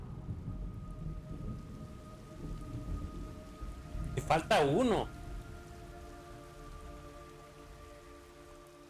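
Steady rain falls in the video game Metal Gear Solid 3 Snake Eater Delta, a continuous broadband wash under the whole stretch, briefly overlaid by a short burst of talk and warbling tones in the middle.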